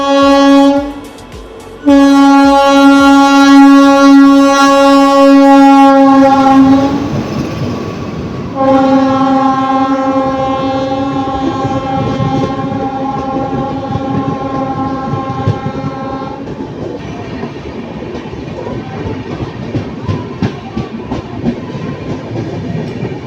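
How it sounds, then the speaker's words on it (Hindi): The Patna Jaynagar Intercity Express crosses at Pandaul railway station. A loud, sustained, multi-tone horn blares twice, then a steady rumble and clatter of wheels and carriages rolls past nearby. "यहाँ रोक दिया क्योंकि सामने से आ रही है पटना जयनगर इंटरसिटी एक्सप्रेस का क्रॉसिंग होना"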